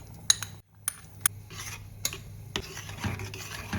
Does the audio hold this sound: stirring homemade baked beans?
yes